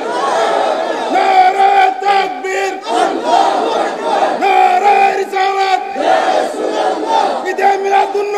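Crowd at a Bengali religious sermon chanting a slogan in loud, rhythmic unison, repeated call after call in a large gathering, voices swelling together and filling the space.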